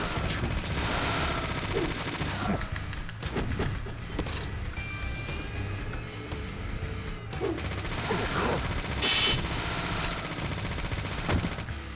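Rapid gunfire in the video game Deadly Premonition, a dense run of sharp shots and clattering impacts over busy game noise, with a few louder cracks standing out.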